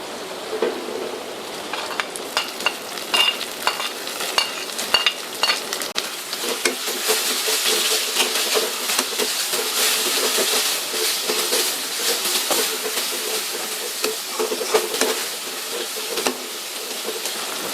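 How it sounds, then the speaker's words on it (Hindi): Tomatoes added to browned onions fry and get stirred in a pan for a beef and okra curry, a steady loud sizzle with scraping stir strokes throughout and no talking. "हमारे प्याज जो है ब्राउन हो चुके हैं। अब इसमें इस स्टेज पर टमाटर शामिल करेंगे।"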